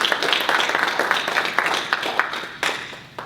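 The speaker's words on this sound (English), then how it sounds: "Let's give him a round of applause." An audience at a panel discussion on Black politics claps for a panelist, moderately loud scattered applause with distinct individual claps that thins out and fades over a few seconds.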